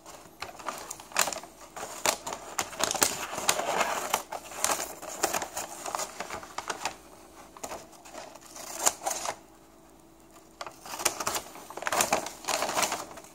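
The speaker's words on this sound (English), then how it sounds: "So, cut to the line and stop." Scissors cutting a paper bag along a marked line for a paper tree sculpture, a close run of crisp snips and rustles repeating in quick bursts with brief pauses, no talk.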